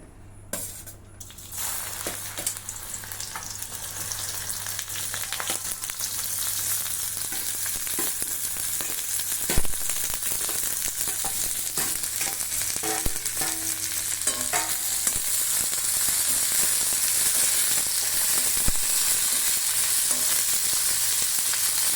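Chopped okra frying in very hot oil, a dense, continuous hiss of sizzling that holds steady and grows slightly louder over time, with a few soft knocks and stirring sounds.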